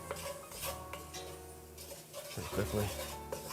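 A utensil scraping and stirring flour into onions and butter in a pot, with repeated scraping and rubbing strokes and soft clinks against the pot. It is moderately close, with someone speaking briefly over it.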